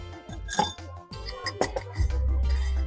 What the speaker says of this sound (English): We'll add little bit of ice to it.